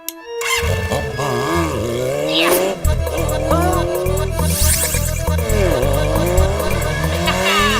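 Cartoon sound effects of a heavy motorbike being ridden, with loud revving engine and squealing, skidding tyres in sweeping pitch bends, set against background music.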